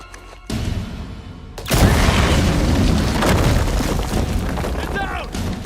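A loud explosion in the video game Uncharted 4 bursts with a heavy boom, then a long rumbling blast and debris noise, while game characters' voices are heard.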